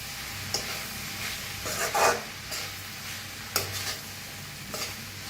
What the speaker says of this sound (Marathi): एक मिनिटभरच असंच हलवून भाजून घेऊया